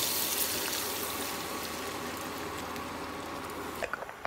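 Water poured into a pan while bacon fries for carbonara, a steady hissing, splashing wash that runs evenly for about four seconds, then cuts off into a few faint clinks.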